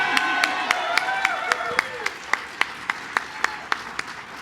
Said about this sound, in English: I think we should give a little round of applause to our first Latina on the Supreme Court, Sonia Sotomayor.